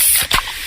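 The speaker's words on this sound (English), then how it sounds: "that's the sound of a freshly opened fizz-filled Pepsi" A freshly opened Pepsi can lets out a sharp pressurized hiss and spray of fizz, a loud close burst over a brief moment with a faint crackle of carbonation after.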